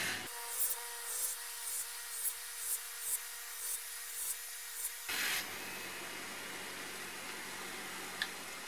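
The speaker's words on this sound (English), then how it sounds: "I could spend some time removing the rust from the washers and the bits that sit inside the hinges." Rust being scrubbed off small toolbox washers and hinge parts, a rhythmic rasping rub repeating about every half second, followed by a steady broadband hiss like a spray or power brush.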